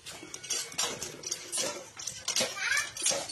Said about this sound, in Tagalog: Buhos-buhusan mo ng tubig yun.